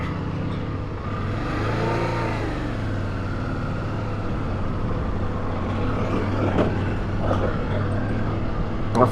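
BMW F650 Dakar single-cylinder motorcycle chugging along in low first gear, a steady close engine drone with a brief rise in pitch near the start and wind rush over it, no talking.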